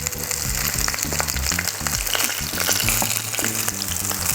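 A salmon steak sears skin-side down in a hot pan with a loud, steady, close sizzle and crackle and no talk.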